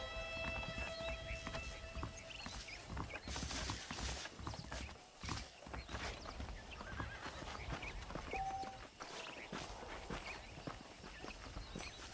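Saddled horses in Red Dead Redemption on PS4 Pro clip-clop steadily over a continuous bed of game ambience, with whinnies and neighs breaking through and footsteps mixed in, fairly close and sustained throughout.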